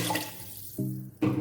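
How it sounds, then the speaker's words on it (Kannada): Glasses of water are poured into a pot of rice for methi pulao, two short splashing pours from a glass separated by a brief pause. "6 ಗ್ಲಾಸ್ ನೀರು ಹಾಕ್ಕೊಳ್ತಾ ಇದ್ದೀನಿ."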